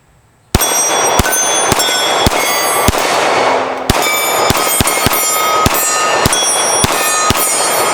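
Sharp gunshots crack one after another, about a dozen in eight seconds, each with a bright metallic ring as rounds strike a steel gong.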